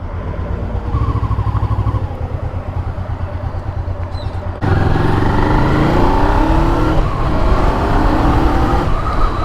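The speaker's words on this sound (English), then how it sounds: "she's ticking over beautifully and smoothly with no revs whatsoever" A cheap Honda motorcycle engine idling smoothly with the choke off, a steady low throb that steps up to a fuller, louder running note about halfway through.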